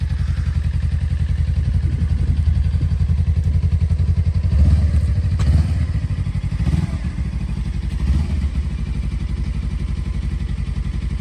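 A new 2023 Suzuki V-Strom 250 motorcycle engine idles steadily up close, a smooth, even low throb with faint mechanical clatter and a slight swell in revs midway, with no talk over it.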